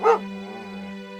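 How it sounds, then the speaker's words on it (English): A single short dog bark rings out at the start over a steady electrical hum that continues afterward, in a spooky graveyard setting with tombstones. "It's only a dog, Kay."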